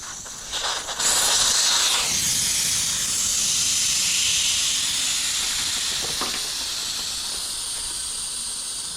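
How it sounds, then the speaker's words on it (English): Air hisses steadily out of a motorcycle tire valve with the core removed on a 2025 KTM 500 EXC-F, a close, continuous rushing hiss after a few brief clicks, slowly easing off. "Air seep out of that."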